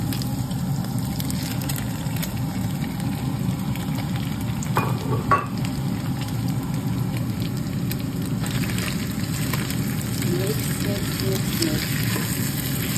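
Pork liver sizzling steadily in a hot pan while being stirred, a continuous close frying hiss with occasional soft scrapes and clinks of the utensil.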